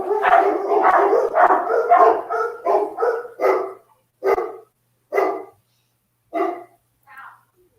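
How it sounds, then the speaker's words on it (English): Several dogs barking in quick bursts, a dense run of overlapping barks that thins into a few separate, spaced yelps before stopping, fairly close and loud with no talk. "Sorry about the dogs."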